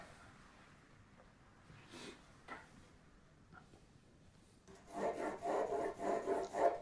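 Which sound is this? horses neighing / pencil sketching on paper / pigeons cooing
pencil sketching on paper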